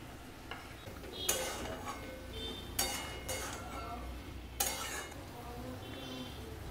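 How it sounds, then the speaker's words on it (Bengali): Jackfruit being stirred into a pan for chilli jackfruit curry, with three sharp utensil scrapes and clatters against the pan over a low steady background, fairly close. "এবারে আমি এঁচোড়টা এর সঙ্গে মিশিয়ে দেব"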